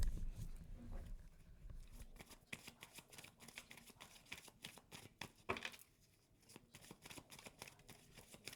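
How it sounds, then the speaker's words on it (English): Tarot cards being reshuffled by hand, a series of soft, papery riffles and slaps close by, with a brief pause before the shuffling resumes more quietly. "Let me reshuffle."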